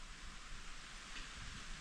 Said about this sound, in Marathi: काही पाऊस आहे वय, टिपका टिपका एवढा तरी पडतोय